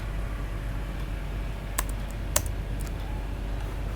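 A few sharp keystrokes on a computer keyboard click out over steady background hiss, including a louder isolated tap like an Enter key press.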